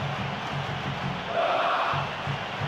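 A stadium crowd in the PES 2013 football video game, during a Roma v Liverpool Champions League match, murmurs steadily and swells briefly into a louder reaction before settling back.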